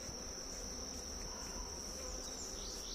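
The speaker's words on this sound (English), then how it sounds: "Okay, so that's a wasp." A wasp drones continuously near the microphone in a wild outdoor setting, a thin sustained buzz that holds steady, with no voices.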